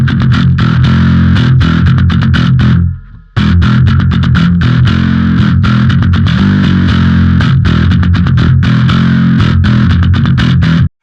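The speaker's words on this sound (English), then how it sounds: "everything from clean to a mildly overdriven amp to effects to heavy distortion" A bass guitar played through a Neural DSP Darkglass plugin chugs in heavy distorted, overdriven riffs, loud and dense, with a brief fading pause before the rhythmic attack resumes.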